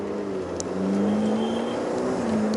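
A 720-horsepower Ferrari F8 Tributo engine hums loudly and rises steadily in pitch as it accelerates, heard from inside or close by, with no talking.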